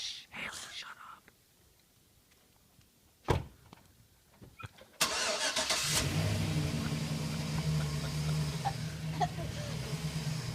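After several seconds of quiet whispering voices, a new four-door truck's engine bursts to life and revs loudly as it pulls away, then holds a steady close roar.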